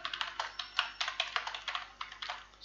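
Fingers type Python code on a computer keyboard, a quiet, close, steady patter of rapid key clicks with no voices.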